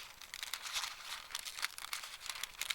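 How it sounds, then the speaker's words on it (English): Nail art foil strip is cut with scissors, giving thin, continuous crinkling and snipping at close range, faint and alone. "just cut off a section with the scissors"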